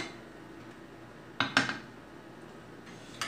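A pressure cooker lid being opened after the pressure is released, heard as a couple of close metallic clanks and clinks in quick succession, followed by a faint later rattle in a quiet kitchen.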